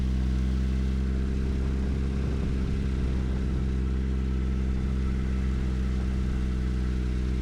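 A car engine idles with its exhaust removed, a loud, steady low rumble and drone running throughout with a brief rougher flutter partway through, no voices over it.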